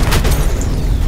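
A missile explodes in the shooter game Infinity Ops, a short heavy boom with deep rumbling low end and a rushing blast tail, loud and close.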